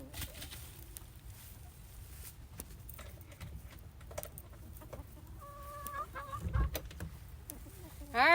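Backyard chickens cluck in a run, several short calls rising near the end over quiet outdoor background and soft footsteps.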